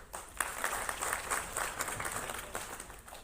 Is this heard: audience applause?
yes